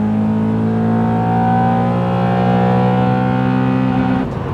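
A Honda Accord drives hard and revs, its engine drone loud and close, pitch climbing steadily over several seconds before cutting off abruptly near the end.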